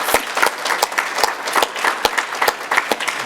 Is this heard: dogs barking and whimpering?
no